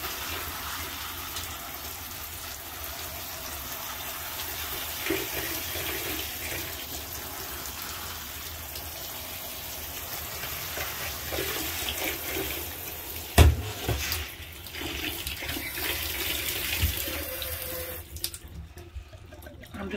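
Water runs steadily from a tap over seed-starting pellets in an organic vegetable garden setting, a soft continuous splashing with a brief knock partway through.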